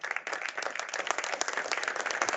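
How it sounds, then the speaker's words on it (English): A round of applause at a city council meeting, with scattered individual claps from a modest group in a chamber, fairly faint and brief. "how about a round of applause for that?"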